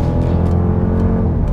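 A Dodge Durango SRT engine rumbles loudly and close with a deep, continuous growl and small surges, heard briefly with no talk over it.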